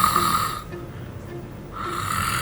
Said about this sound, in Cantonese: 打鼻鼾，